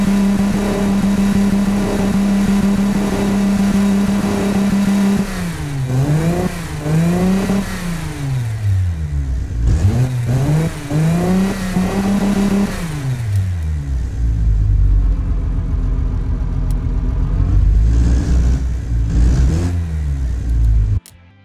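Simulated GMC 351ci V6 in the Automation game holds a steady idle drone, then climbs through repeated sharp revs with rising and falling pitch, before settling into a lower, rougher hum that swells again near the end; loud and close, no talking.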